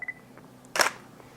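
A single camera shutter fires with a flash set to 1/8 power, giving one sharp, bright click burst after a faint earlier beep, close and alone with no talk.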